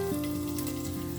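Curry leaves drop into hot oil for tempering, a brief close hiss and crackle of frying that holds steady with no talk.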